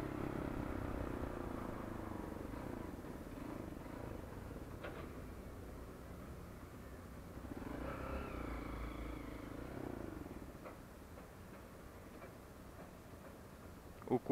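A flex-fuel motorcycle engine running on ethanol idles with a low, steady rumble and light mechanical ticking, with brief swells of revving partway through.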